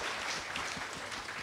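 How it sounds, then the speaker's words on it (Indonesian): Audience applause at a teacher convention panel discussion, a dense steady wash of many hands clapping at even loudness throughout, with no clear talk over it. "Boleh tepuk tangan buat kita semua ya"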